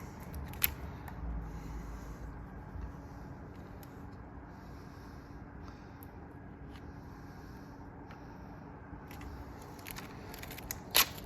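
Window tint film being cut on a Volkswagen front quarter window, making faint, quiet scraping and slicing sounds with occasional small clicks and taps, close by but low in level throughout.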